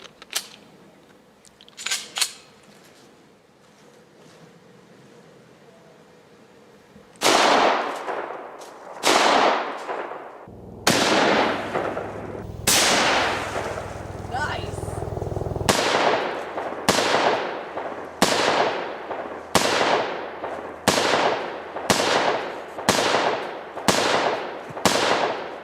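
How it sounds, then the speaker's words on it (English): Gunshots are fired at a book, a Quran. A few scattered reports come first, then a steady run of about fifteen loud, sharp shots, each with a ringing decaying tail. "this is how Eric from Ohio's wife likes to shoot"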